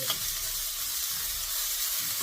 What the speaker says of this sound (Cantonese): 爆香佢